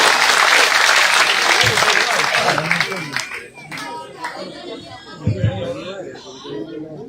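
Crowd applause and clapping at an outdoor village political rally in Gannaur, loud and dense for the first three seconds, then thinning into scattered claps and chatter with a few louder bursts near the end.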